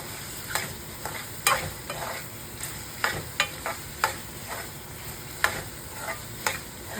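Mushroom pieces frying in hot oil for a curry, with a steady soft sizzle broken by repeated sharp clicks and scrapes of stirring in the pan, no voices.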